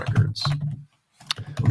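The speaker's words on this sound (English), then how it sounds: "I'm sorry if my typing is very loud" Loud, close typing on a computer keyboard during a livestream about building agentic apps with Flutter, heard as two quick bursts of clacking keys with a short pause between them.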